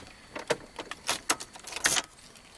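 A key is pulled from the ignition of a Pontiac Grand Prix with a stuck key and gear shifter, producing a series of sharp metallic clicks and jingles, several close rattles of the key ring, with no talk.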